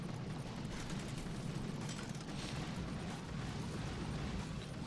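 Doom cannon and rocket launchers fire in Boom Beach as a dense, continuous roar of blasts and rumbling impacts, loud and unbroken throughout with no talk.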